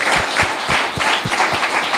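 Congregation applauding during a church sermon, a burst of rhythmic clapping that is fairly loud and close, with several distinct hand claps landing in a brisk, slightly uneven beat.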